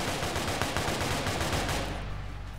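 Rapid, dense gunshots in a first-person video game ring out loud and close, a continuous volley that cuts off near the end.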